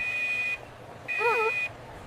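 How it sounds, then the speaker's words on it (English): A fire alarm sounds in two loud, piercing electronic tones separated by a short gap, and a voice speaks over the second tone. "Fire alarm! Fire alarm! Please leave the building."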